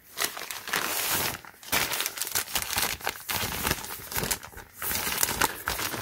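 A plastic Ziploc bag being handled up close, loud crinkling and rustling in bursts with short quiet gaps between them.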